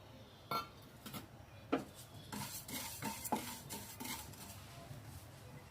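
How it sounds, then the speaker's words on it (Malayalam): Cumin seeds are dry-roasted and stirred in a pan over low flame, with intermittent scraping and light clinks from the utensil against the pan, close and moderately quiet. "ഇനി നമുക്ക് ജീരകം വറുത്തെടുക്കാം."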